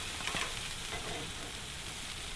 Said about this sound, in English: Let's go ahead and give everything a little flip here.